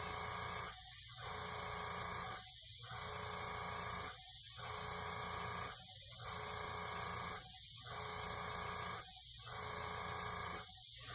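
A hand blower pushes air over alcohol ink on a tile in a constant loud hiss, with regular short pauses roughly every one and a half seconds and no voices.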